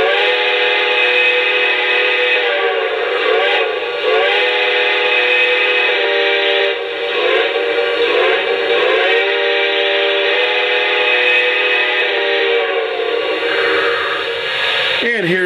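A Lionel Canadian Pacific 4-6-0 model train locomotive's steam whistle sounds in one long, steady blast with slight wavering in pitch, loud and close, running without a break.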